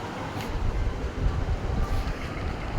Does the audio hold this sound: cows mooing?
no